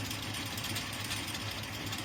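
A small plastic extruder's motor runs with a steady, unbroken mechanical hum and faint vibration, close up and alone with no voices.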